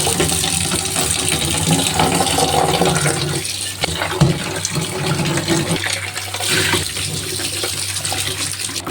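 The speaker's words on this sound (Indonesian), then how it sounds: "lanjut kita mau cuci daun singkong" Running water splashes steadily over cassava leaves being washed in a kitchen, a continuous close rush and spatter that lasts the whole stretch with no talking.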